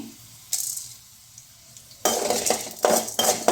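A spoon mixes coriander seeds, cumin and black pepper in a metal pan, giving a clatter, a pause, then busy scraping and clinking over a light sizzle, close and fairly loud.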